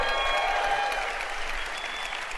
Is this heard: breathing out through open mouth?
no